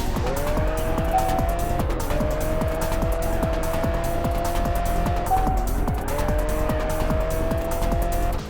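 Noble sports car racing in the Test Drive Unlimited video game, its engine revving loud and steady through repeated gear shifts, the pitch climbing and dropping with squealing tires throughout.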